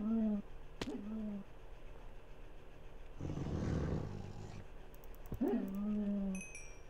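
A dire wolf in Minecraft's Ender Zoo mod lets out a rasping growl of just over a second, framed by short whining, yelping game tones before and after it, with no speech.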